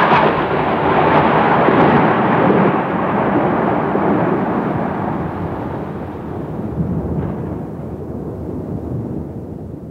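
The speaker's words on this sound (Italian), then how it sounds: "Fragore e brontolio di tuono." A loud crash of thunder that turns into a long, deep rumble, slowly fading over about ten seconds.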